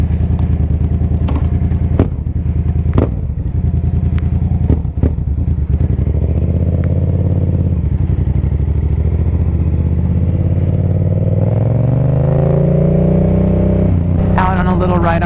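A motorcycle rumbles steadily through a residential neighborhood, heard up close from the rider's position. The engine note rises as it accelerates toward the end, and a few sharp clicks and clatters mix in.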